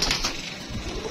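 Pigeons cooing near a keeper's coop, a short soft burst of close, throaty bird calls with a little rustle behind.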